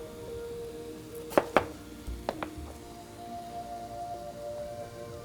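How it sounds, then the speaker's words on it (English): Knife cutting up an onion on a cutting board for Cuban black beans and rice, a few sharp chops spaced apart, fairly close but soft against quiet background. "we're gonna get that started while I'm cutting up the onion"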